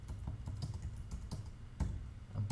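Keys clatter on a computer keyboard as a search query about World War II is typed, a steady run of close, light clicks with a few louder strokes and no speech.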